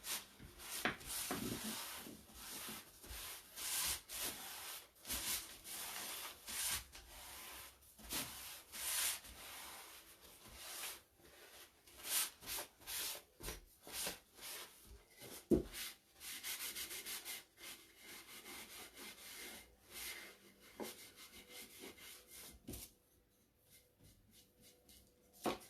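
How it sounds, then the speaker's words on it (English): Cloth rubs wax off a painted wooden utensil holder made from a tin can, producing quiet, scratchy back-and-forth strokes in irregular bursts, close up, fading near the end, with no voices. "just a minute while we rub this one off. It'll definitely stay better on the wood."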